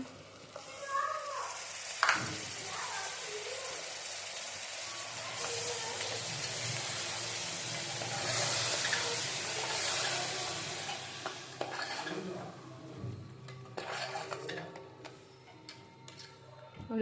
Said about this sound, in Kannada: ಚೆನ್ನಾಗಿ ಮಿಕ್ಸ್ ಮಾಡಿ ಚೆನ್ನಾಗಿ ಬೇಯೋದಕ್ಕೆ ಬಿಡಿ